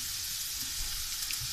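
Food sizzling in a pan while being cooked for a dog named Koda, a steady bright hiss with faint low rumble underneath, no talking.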